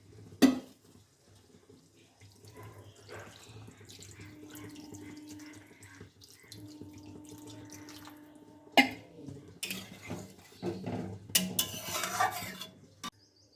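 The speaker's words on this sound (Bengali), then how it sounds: "ভালো করে কষিয়ে নেওয়ার পর এবার দিয়ে দেওয়া হচ্ছে জল।" Water poured into a pan of frying masala for a raw banana kofta curry, a running splash and trickle with clatter of pots and utensils, ending in louder bursts of sizzling and clanking.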